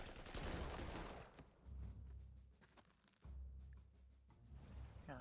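Artillery fire in the wartime strategy game Panzer Corps 2 sounds as a burst of crackling shots at the start, followed by low rumbling booms and thuds repeating at a distance.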